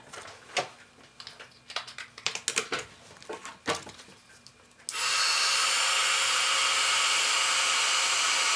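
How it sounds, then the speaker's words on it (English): A heat tool embossing iridescent ice powder on a card switches on after some soft rubbing and handling sounds, then blows a loud, steady, close hiss that continues to the end. "and heat emboss it"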